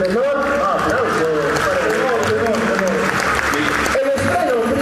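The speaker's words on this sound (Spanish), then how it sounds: "¡Aplausos!" Audience applause greeting the youngest member of a university tuna troupe from Ica, steady clapping running throughout beneath a loud voice talking over it, with a brief dip near the end.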